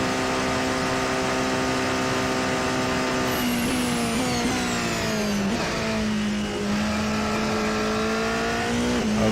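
Race car engine in a virtual racing video game accelerating hard, a loud rising whine that climbs through the gears with brief drops at each shift, continuous and close.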